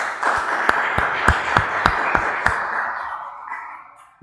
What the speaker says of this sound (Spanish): vamos a recibir con un fuerte aplauso a Carlos Adolfo Reyes Morales